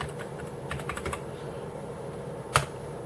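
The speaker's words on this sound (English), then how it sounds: "I can type words." Typing on a computer keyboard at a Power Mac G4 Quicksilver, a steady patter of key clicks near and moderately quiet, ending with one louder keystroke.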